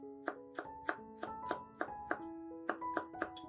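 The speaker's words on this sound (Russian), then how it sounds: "Мелко нарезаем веточку укропа." A knife finely chops a sprig of dill on a board in about a dozen crisp, evenly spaced taps, close and clear against a quiet kitchen.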